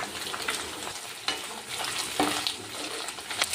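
Food sizzles in a pan with turmeric while being stirred, giving a continuous close fry hiss broken by scraping stir strokes and small pops. No one speaks.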